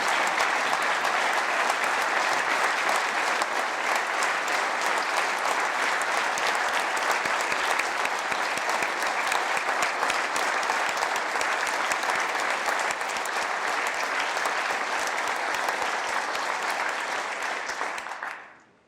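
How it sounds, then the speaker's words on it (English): A large audience at a state of the State address gives healthcare professionals a long standing ovation, steady dense clapping that stays loud for nearly twenty seconds before cutting off abruptly. "Would you please give them a round of applause for all of their efforts"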